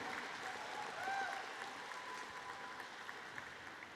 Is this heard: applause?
yes